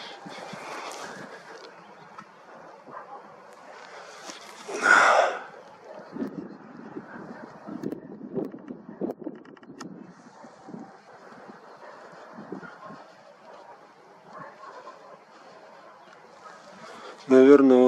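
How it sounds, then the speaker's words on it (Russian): Wind buffets the microphone in uneven gusts while a person talks, with one sharp loud rush midway and a steady low rumble throughout. "Вы видите, какой у нас тут ветер."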